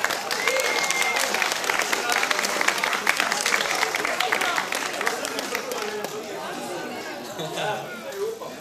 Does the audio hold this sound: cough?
no